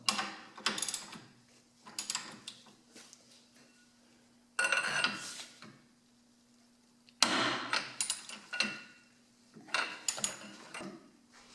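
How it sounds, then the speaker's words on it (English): Wrench turning the nut off a strut-to-control-arm bolt on a first-generation Mazda 6 or Ford Fusion front suspension, heard as several bursts of ratcheting metallic clicks with short pauses, close and without speech. "I'm going to be holding one end of the bolt and removing the nut from the other side."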